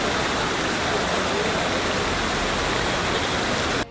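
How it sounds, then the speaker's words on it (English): Heavy rain pours down near Mecca, Saudi Arabia, a dense, loud, unbroken hiss filling the whole span before cutting off abruptly at the end. "For several weeks, the Arab region has been hit hard by prolonged heavy rains."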